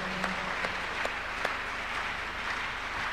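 A church congregation claps during a Tuesday miracle service testimony, a steady mass of applause with a few sharper individual claps standing out, fairly even and moderately loud throughout.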